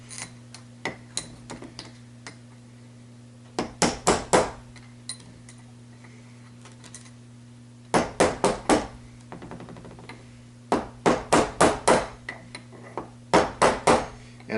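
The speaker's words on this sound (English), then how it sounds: "I like just tapping them in because it gives me a little better control with a lead hammer" A lead hammer taps a bearing into place on a 1969 Lotus Elan SE gearbox, sharp close metallic knocks falling in quick bursts of four or five, separated by pauses, over a low steady hum.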